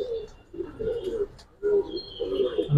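Giribaz and colouring pigeons at a loft give repeated low, throaty coos in short bursts with brief pauses, close and fairly loud, with faint higher chirps in the background.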